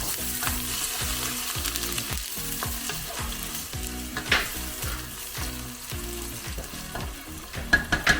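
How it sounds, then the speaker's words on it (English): Onions frying in neutral oil in a pan, a steady close sizzle broken by repeated rhythmic stirring scrapes and soft clinks, with no talk. "I'll start off with the neutral oil, and then I'll put about half of these onions"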